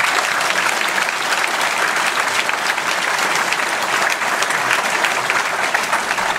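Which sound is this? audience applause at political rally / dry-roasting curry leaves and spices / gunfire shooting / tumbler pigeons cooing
audience applause at political rally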